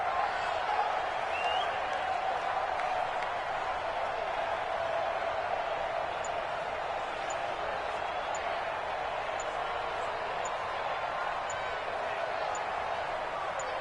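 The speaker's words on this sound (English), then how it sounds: "And the home crowd applauding." Steady wash of home-crowd applause and cheering in a PS4 basketball game, continuous and evenly loud throughout with a faint ball bounce underneath.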